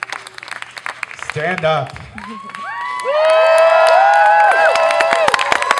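Audience at a WildFire performance class awards event bursts into clapping, whoops and shrill cheering that swell and hold loud and steady after a brief spoken call.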